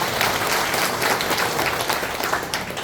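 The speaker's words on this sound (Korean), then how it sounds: "박수 한번 보내주세요" Audience at a party members' launch meeting in Naju applauding, a continuous dense patter of many hands clapping, close and loud throughout.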